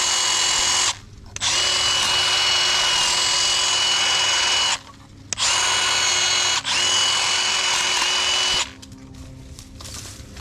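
Milwaukee M12 Fuel 8-inch hedge trimmer cutting small branches: a loud, continuous high-pitched motor whine with blade chatter, running in long bursts broken by brief stops, then fading to quieter rustling at the end.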